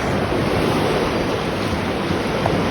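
Sea waves washing continuously onto the shore of an island beach at Gibitngil Island, Cebu, with steady broadband surf and some wind noise throughout, no speech.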